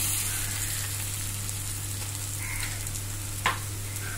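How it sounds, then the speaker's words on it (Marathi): Ground masala and whole spice mix sautéing in a pan for Kolhapuri tambda rassa, a steady close sizzle with an occasional stirring scrape and a low background hum. "छानपैकी परतवून घेऊया."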